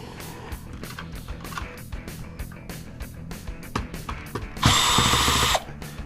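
Cordless screwdriver unscrewing fasteners from an e-waste circuit board, a steady motorized whir with repeated short pulses, ending in a louder, brighter burst of driving.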